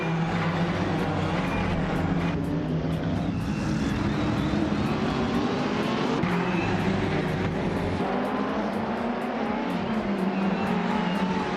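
Ferrari 488 GTE race car engines in a racing video game, a loud continuous droning roar with shifting pitch that holds steady throughout.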